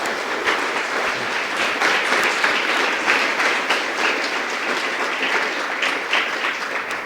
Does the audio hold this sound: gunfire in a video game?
no